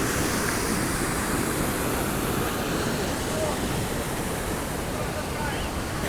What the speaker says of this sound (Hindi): काफ़ी बढ़िया फोर्स है पानी का और उस तरफ से पानी आ रहा है आगे से